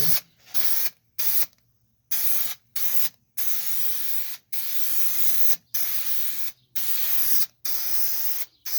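Aerosol adhesive sprayed in repeated bursts onto carpet pad inside a custom Chevrolet C10 truck cabin, close hissing blasts of about a second each separated by short silences.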